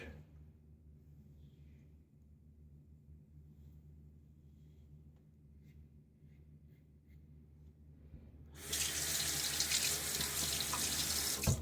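A water tap is turned on at a sink to rinse shaving lather from a razor, starting abruptly after a long quiet stretch of soft background rumble and then running steadily and loud until the end.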